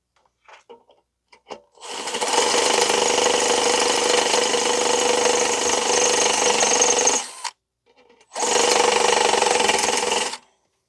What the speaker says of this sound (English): So I'm still drilling through. I think I'm almost there.